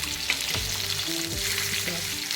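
Stuffed green chillies frying in a pan, giving a steady close sizzle and crackle that runs for a couple of seconds with no speech.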